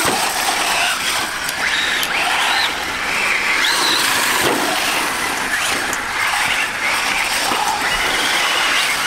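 Traxxas Slash 4x4 RC car with a low center of gravity chassis running on a race track, a continuous loud whirring electric motor that rises and falls in pitch as it speeds up and slows through the corners.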